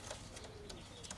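A red Birmingham Roller pigeon hen gives soft, low coos in a few brief, faint bursts, heard alone and close by against quiet background hiss.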